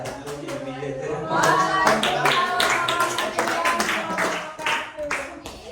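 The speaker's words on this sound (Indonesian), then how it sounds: "Tepuk tangan dulu sedikit" A class in a classroom applauds together in a burst of overlapping hand claps, while a voice speaks over part of it.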